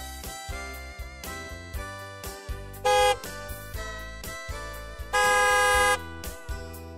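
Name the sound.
car horn honking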